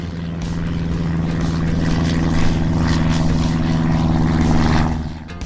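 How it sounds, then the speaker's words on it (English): A steady, loud mechanical drone with a constant low hum runs through the whole stretch and tails off at the end, from a small toy airplane with a propeller. "Whoa! This is a toy airplane."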